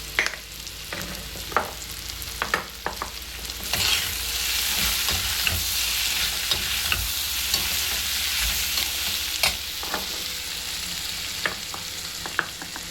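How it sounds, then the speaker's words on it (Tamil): Sliced ivy gourd fries crisp in a pan for a stir-fry, a steady close sizzle broken by frequent spatula scrapes and clacks, growing fuller and louder partway through. "உங்களோட கோவக்காய் ஃப்ரை ஆயிடுச்சு. நல்லா கிறிஸ்பியாக ஆச்சு."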